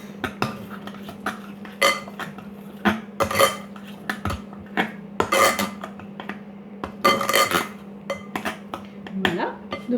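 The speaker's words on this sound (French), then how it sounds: "Et maintenant, on mélange le tout." A spoon mixes sliced radishes with cream, chives and shallot in a bowl, producing repeated close clinks and scrapes against the dish in an uneven rhythm.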